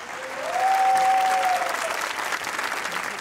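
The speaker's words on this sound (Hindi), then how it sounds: "तालियां होनी चाहिए" Audience applause for a prize winner receiving a gift hamper, a steady crowd clapping that swells in the first second and holds at an even level, with a faint tone briefly ringing above it.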